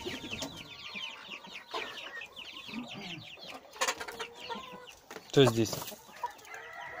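Chickens cluck and chatter steadily in a coop, with a rooster's crow breaking through, while a person speaks briefly over the flock.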